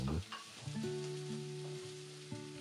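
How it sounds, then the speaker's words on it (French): Garlic and ginger fry in a couple of spoonfuls of oil in a sauté pan over medium heat, giving a steady close sizzle with a pitched melodic tone running beneath it. "Dans la même sauteuse, mais cette fois-ci à feu moyen, toujours avec 2 cuillères à soupe d'huile, faire revenir l'ail et le gingembre une petite vingtaine de secondes"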